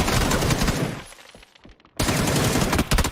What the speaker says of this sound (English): Pre-firing, but he was too low HP, unfortunately, and Omican goes down.